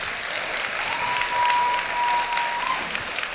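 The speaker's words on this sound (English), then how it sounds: "big round of applause for them" Convention audience applauding the event staff, a steady wash of many hands clapping at moderate distance that swells slightly midway, with a faint tone sounding briefly beneath it.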